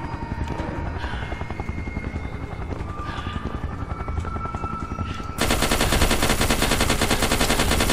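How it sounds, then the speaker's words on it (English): A helicopter in the video game SCP Containment Breach: a loud, steady rotor thudding and mechanical drone that swells sharply partway through, mixed with rapid machine-gun fire and no talking. "helicopter."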